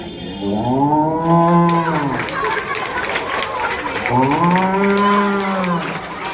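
A group of children imitate a cow, voicing two long drawn-out moos one after another, loud and close, with a room full of young voices chattering around them.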